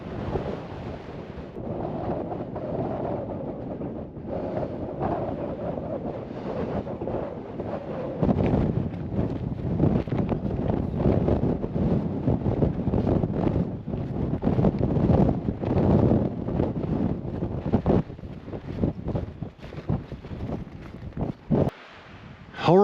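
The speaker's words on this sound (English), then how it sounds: "it is cold and that wind is whipping" Cold wind whips across the summit of Flattop Mountain, a loud continuous roar buffeting the microphone with gusty rumbles and surges, sustained throughout and ending in a few sharp knocks.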